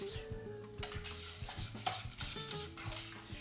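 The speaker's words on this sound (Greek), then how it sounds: "Ανακατεύουμε μέχρι να λιώσει το βούτυρο." A spoon stirring warm cream in a pot as butter melts into it, with soft repeated scraping and light clinks of metal against the pan, close and fairly quiet.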